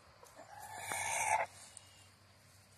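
A rooster crows once, a strained, shrieking call lasting about a second, heard outdoors on a homestead at moderate distance over faint background noise.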